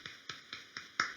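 Five sharp, evenly spaced hand claps in quick succession, close and crisp, the last one slightly louder.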